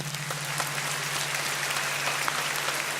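Audience applause for Mattia, a social worker, at a testimony event on minors, steady broadband clapping under a constant low hum.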